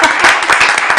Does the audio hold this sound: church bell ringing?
no